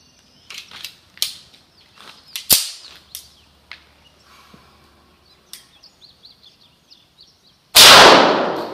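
A .45 ACP pistol with a 5-inch barrel fires one Hornady 230-grain match round into ballistics gel: a single loud, sharp report near the end, preceded by scattered clicks and mechanical handling noises.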